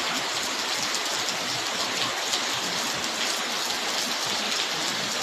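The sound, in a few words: heavy rain in Hyderabad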